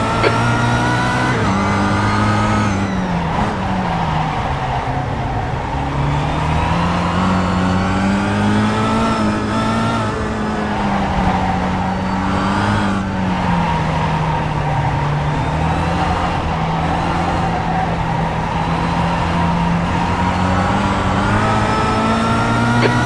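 Faster-class race cars close in during a circuit race, engines droning loud and steady with rising and falling revs for the whole stretch.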